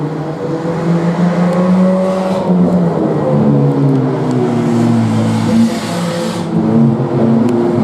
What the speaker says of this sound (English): both drivers able to keep it straight as they work their way off of turn number 2, and Dustin Hartwig surviving